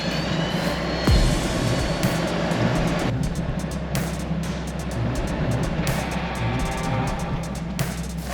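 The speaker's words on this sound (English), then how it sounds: "Being patient and just barely using the throttle to get yourself to crawl back up on the snow" A Hummer H2 engine drones under light throttle as it crawls through deep snow, a steady low rumble with small surges, close and continuous, with no talk.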